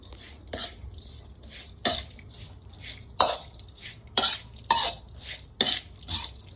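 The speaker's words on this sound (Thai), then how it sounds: "คนครับ" Spatula scrapes and clinks against a pan while duck larb, seasoned with fish sauce, is stirred, coming as sharp, irregular strokes about once a second over a low background hum, close and moderately loud.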